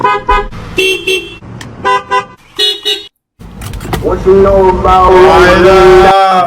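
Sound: Tesla custom horn playing a song

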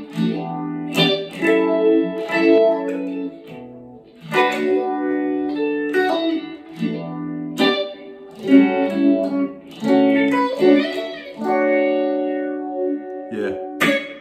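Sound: Phase Four phaser pedal, slow speed, high resonance and sweep

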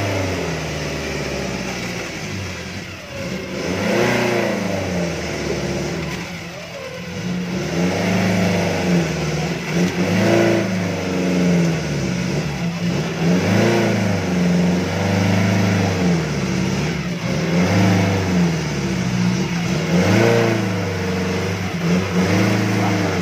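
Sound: Nissan Terano 4x4 off-road engine revving

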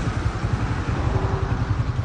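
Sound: motorcycle with a punctured tyre

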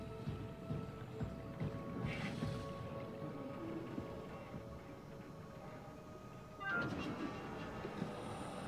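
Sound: shuttle train moving in video game Soma

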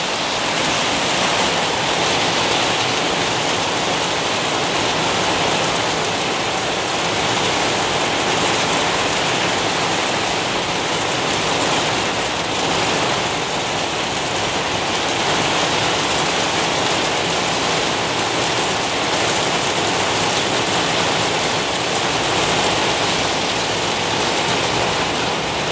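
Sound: rain falling

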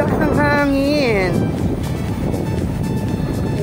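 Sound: strong wind

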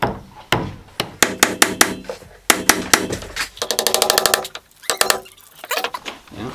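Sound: hammer striking wood

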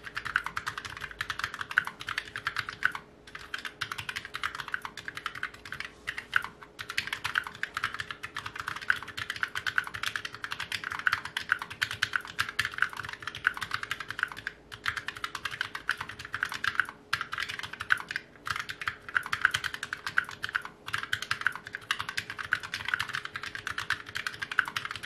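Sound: typing on FNATIC STREAK65 keyboard with speed low profile switches

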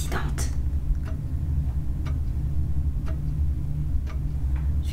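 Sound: ticking clock in the video game Paranormal Activity VR

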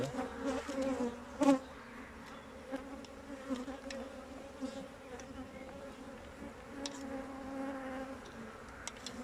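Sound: honey bees buzzing during hive inspection

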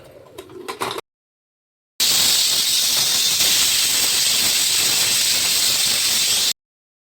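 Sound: pressure cooker whistling while cooking methi pulao

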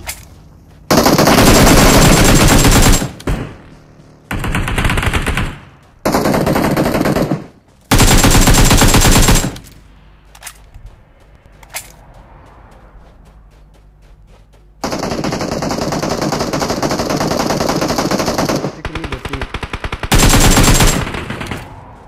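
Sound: gunfire in a video game

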